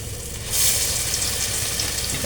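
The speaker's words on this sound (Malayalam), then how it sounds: "നമ്മൾ വട ഉരുട്ടി നമ്മൾ ഇതിനകത്തോട്ട് ഇടും" Balls of vada batter sizzle steadily in hot oil, a dense close crackling hiss that swells as the dough goes in and then holds at an even level.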